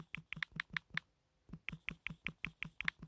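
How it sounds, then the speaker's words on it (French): Rapid keyboard typing, a steady run of crisp key clicks that pauses briefly near the middle and then resumes, close and fairly quiet. "je modifie avec mon clavier"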